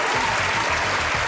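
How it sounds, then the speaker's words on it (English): Studio audience clapping for a guest on a radio show, a dense, fairly loud burst of applause lasting the whole moment, with no speech on top. "you get a big round of applause,"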